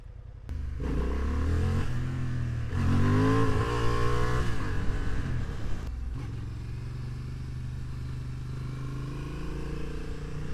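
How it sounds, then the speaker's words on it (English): A 2025 Honda Hornet CB750 motorcycle turning tightly at full steering lock in an open space rumbles close by, revving up with rising pitch for a few seconds before settling back to a steady idle. "How well does this bike U-turn?"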